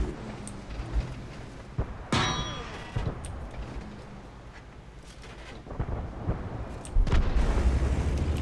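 Shell hits striking a tank in World of Tanks: a sharp metallic clang early on, then scattered softer impacts and a rumbling burst at the end, with no talk.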